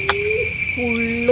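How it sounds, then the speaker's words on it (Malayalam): An unidentified bird gives two drawn-out, steady hooting calls somewhere outdoors, heard from a walking position. A constant high insect-like drone runs underneath, and the calls come through clearly at moderate volume. "ഏത് കിളിയുടെയാണ് എന്നറിയാൻ വേണ്ടിയിട്ടാണ് ഞാൻ ഈ നടന്നു പോയോണ്ടിരിക്കുന്നത്"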